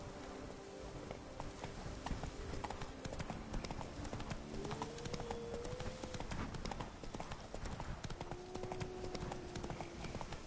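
A horse gallops in the video game Witcher 3: a dense, fast run of hoofbeats holds steady and fairly loud throughout, with a faint sliding tone drifting in the background and no voices.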